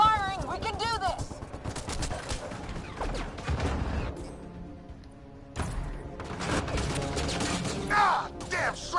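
Rapid bursts of weapon fire in the Mass Effect Andromeda video game, with loud automatic gunfire and impacts mixed with shouting voices and stretches of combat noise, pausing briefly before the firing resumes.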